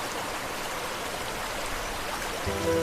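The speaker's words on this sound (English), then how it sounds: "the water below flows stronger than ever." Water flowing under a collapsed wooden bridge after rain, a steady rushing stream that swells slightly louder near the end, no voices.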